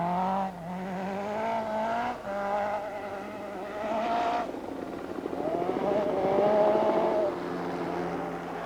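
An Audi four-wheel-drive rally car on icy roads, its engine revving hard with repeated rises and drops through gear changes, moderately distant, with a brief tyre squeal.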